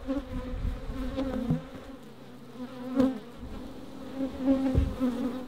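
Bees buzz steadily around hives during a move to the Adelaide Hills, a dense continuous hum close by with a few louder passes and knocks.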